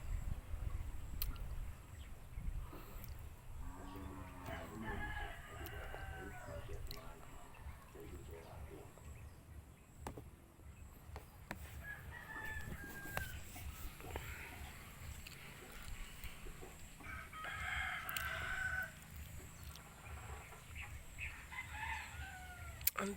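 A rooster crows and chickens cluck faintly outdoors, with intermittent clucks and a crow or two amid quiet background noise and occasional talk.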